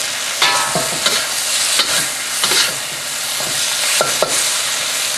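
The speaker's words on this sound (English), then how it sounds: "Give them a quick stir." Vegetables and pork stir-fry in a pan with brown sauce and sesame oil, a loud hot sizzle broken by repeated scraping strokes of a utensil, close and without speech.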